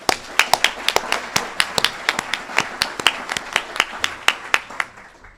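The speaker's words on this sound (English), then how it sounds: "Please give him a round of applause." Small audience at a graduation certificate ceremony clapping for a graduate, a sparse group of distinct, sharp claps in an uneven rhythm that continues steadily, then fades at the end.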